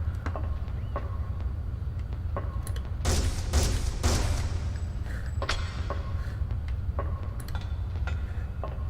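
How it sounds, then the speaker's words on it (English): Shotgun blasts in a PS1 video game, a few sharp bursts clustered midway with lighter clicks and thumps scattered around them over a low rumbling background. "That's a shotgun."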